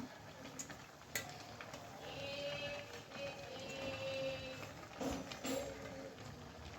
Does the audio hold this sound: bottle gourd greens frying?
yes